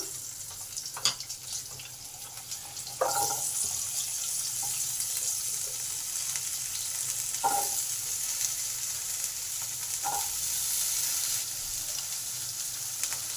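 Potatoes fry in a pan with kalo jeere and hing, a steady hissing sizzle with a few soft clinks and stirs scattered through it, moderately close, with no talk.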